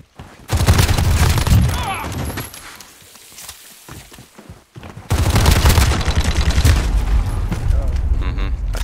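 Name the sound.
gunfire in a shooter video game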